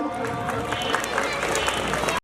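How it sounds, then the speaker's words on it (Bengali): Dense, steady applause from an audience at a retirement ceremony, holding an even level for about two seconds before cutting off abruptly. "আমরা একটা হাততালি দিই সবাই"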